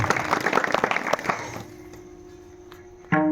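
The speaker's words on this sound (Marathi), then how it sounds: "बाबांसाठी जोरदार टाळ्या वाजवा" An audience at a devotional kirtan gathering in Varkhed claps loudly in a dense, crackling burst for about a second and a half, then the applause fades out, leaving a steady hum.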